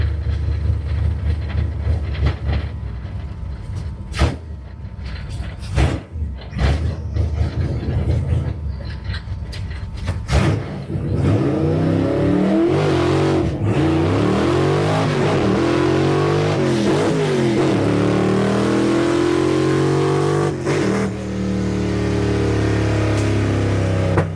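A drag racing car at Big Sky Race Week in Montana launches and accelerates hard down the strip, its engine rising loud and near through repeated gear shifts after a few sharp knocks and pops at the start.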